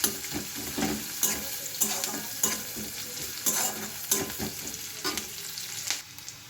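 Onion and garlic fry in a pan, a continuous crackling sizzle with regular stirring scrapes and clinks every half second or so, close and fairly loud, fading slightly at the end.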